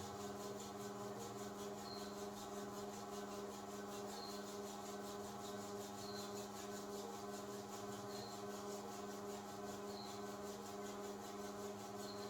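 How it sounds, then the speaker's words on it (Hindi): Both palms rub together quickly during a beginner yoga eye exercise, giving a faint, continuous dry friction that runs steadily for the whole stretch over a low, constant background hum. "और दोनों हाथों से थोड़ा सा तेज रब करना है"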